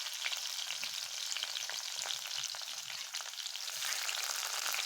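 Chopped onion frying in hot oil with garlic for a sweet pumpkin dish, a dense even sizzle with faint crackles and light stirring, fairly quiet and with no talking.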